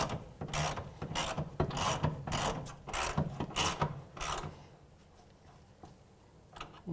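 A ratchet tightening control arm bolts on a 2011-2017 Honda Odyssey, a steady series of close, rasping clicking strokes that slow and fade near the end.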